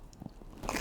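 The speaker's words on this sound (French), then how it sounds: "Je sais pas si vous entendez bien au micro le croquant." A quiet, close bite into a fried Japanese korokke croquette gives a few faint crisp crunches, followed by a louder burst of crackling chewing near the end, with no talking.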